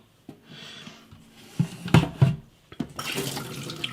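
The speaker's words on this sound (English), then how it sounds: "tap is on" Water runs from a kitchen tap during beer brewing, with splashing and gushing bursts near the mic along with clunks and handling noises, growing fuller toward the end.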